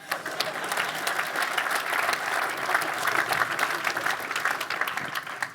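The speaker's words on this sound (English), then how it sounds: "Let's clap it up for these pioneers." At a business conference keynote, a large audience claps for audience members standing up, a sustained wash of dense, crisp hand claps lasting several seconds at steady volume.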